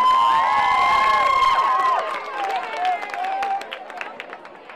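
A high school football crowd at Hartford High School cheers and claps under a commentator's voice, with scattered shouts and applause thinning out over a few seconds.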